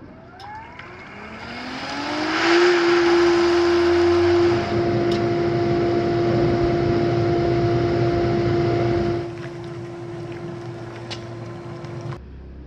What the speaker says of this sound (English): these valve actuators will engage and turn it into spa mode. The heater will turn on